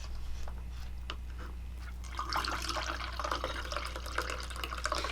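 Water poured from a vessel into another container while making water kefir, a steady splashing trickle that builds after a quiet start, over a constant low hum.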